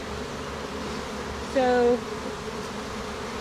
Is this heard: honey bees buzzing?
yes